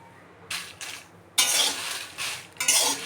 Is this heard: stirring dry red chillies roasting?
yes